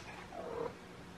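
A contented cat purrs softly up close in a quiet room, a low steady rumble lasting about a second.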